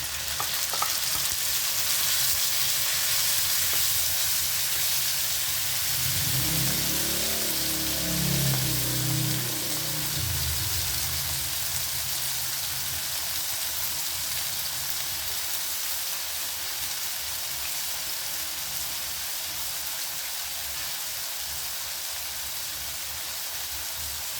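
Tomatoes go into golden-brown garlic and onion in a sauté pan, and a steady close sizzle swells into a busier bubbling crackle mid-way before settling back to an even frying hiss.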